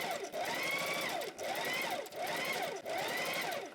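A sewing machine stitches a blind hem in bursts, running steadily in three or four close runs with brief pauses between them, and no talking.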